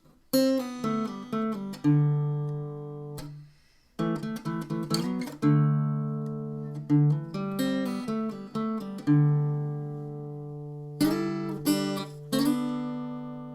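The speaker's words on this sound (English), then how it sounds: "There's a mini solo that the lead guitar plays just after the 2nd chorus" A clean electric guitar plays a short melodic solo after the second chorus of a song, single plucked notes and brief runs ringing out alone with small pauses between phrases.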